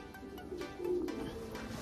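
Racing pigeon cockbirds coo with a low, soft murmur that swells briefly near the middle, close by and faint against a quiet loft background.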